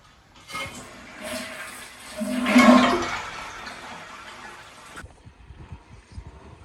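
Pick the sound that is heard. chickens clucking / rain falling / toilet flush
toilet flush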